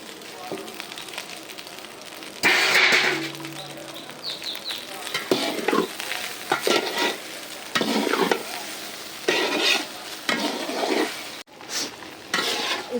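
Cooked rice tipped into a hot pan and stir-fried for homemade fried rice, a loud burst of sizzling followed by repeated scraping and tossing strokes over a constant frying hiss, with a voice speaking at moments.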